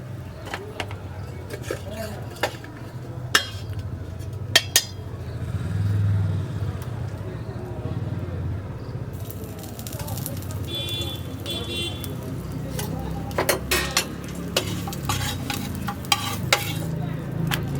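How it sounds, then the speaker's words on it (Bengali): A paratha is dry-roasted in a pan, then fried with a little oil. A low hiss runs under a voice, punctuated by scattered sharp clicks and scrapes of a spatula. "প্রথমে একটু সেঁকে নিচ্ছি তারপরে হালকা তেল দিয়ে পরোটাটা ভেজে নেব"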